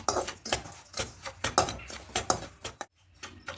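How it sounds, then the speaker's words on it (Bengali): Dry semolina stirred nonstop in a kadai while lightly roasting gives repeated gritty scrapes of a spoon against the metal pan, in quick uneven strokes with one short pause near the end. "এভাবে অনবরত নাড়তে নাড়তে সুজিটাকে একটু হালকা করে ভেজে নেব"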